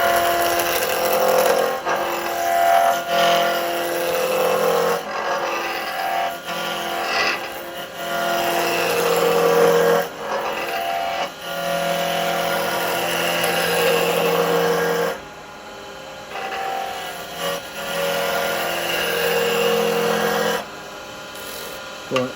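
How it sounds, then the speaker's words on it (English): A large roughing gouge scrapes and rasps against a spindle spinning on a wood lathe, a loud continuous coarse cutting noise that swells and drops as the tool moves, with a few brief pauses. "I'm using bigger roughing gouge this time just to get this rough down"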